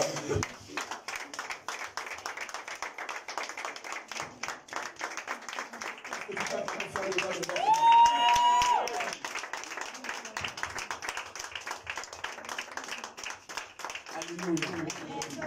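A church congregation applauding and cheering, a dense steady roar of clapping throughout with shouts and voices rising in the middle, and a speaker talking over it.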